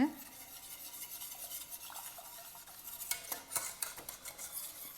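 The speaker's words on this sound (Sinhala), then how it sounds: "දැන් නතර කරගෙන නැතුව මේක හොඳට කවලම් කරගන්න ඕන." Soft scraping and light clinking of a spoon stirring a heated vanilla-flavoured mixture in a pot, faint at first and then a few louder knocks toward the end.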